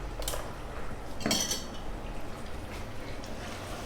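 Spices being mixed into mutton in a clay pot handi, with a few scraping and clinking strokes of a spoon against the pot over a quiet, low background.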